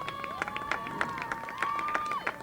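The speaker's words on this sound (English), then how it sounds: "Appreciative crowd here on hand. Gives Flanagan a nice hand for getting up after the play." Crowd applause and cheering at a high school girls' lacrosse game, scattered claps and murmurs as an injured player gets back up; moderate and mid-distance, with a high whistle-like tone running through.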